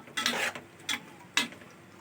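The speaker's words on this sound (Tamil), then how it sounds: "தயிர் போட்டு நல்லா மிக்ஸ் ஆகிட்டு பாருங்க" Curd being stirred into chicken biryani masala in a pot, heard as three separate bursts of scraping and clinking from a spoon against the vessel, close and fairly soft, with no talking.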